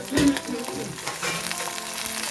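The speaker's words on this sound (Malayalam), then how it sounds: "ചതുരപ്പയർ ഇട്ട് കൊടുത്തു, നന്നായിട്ടൊന്ന് ഇളക്കണം. ഒരു കറിവേപ്പിലയും കൂടി ഇട്ട് കൊടുത്തിട്ടുണ്ട്." Winged beans and curry leaves stir-fried in a pan give a steady close sizzle with occasional stirring scrapes, heard alone without speech.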